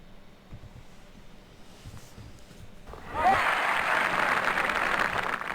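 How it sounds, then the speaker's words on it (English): Crowd applause breaks out about halfway through a livestream, rising suddenly from a quiet, murmuring background into steady, dense clapping that continues loudly to the end. "Wow, we got applause instead of laughter."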